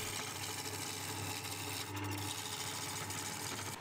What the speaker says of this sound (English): I started with the roughing gouge, first taking light passes to try and get it more round,